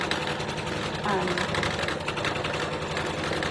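A sewing machine hums and whirs steadily while stitching fabric flower puffs, a close mechanical drone with rapid needle chatter, partly overlapped by a voice talking.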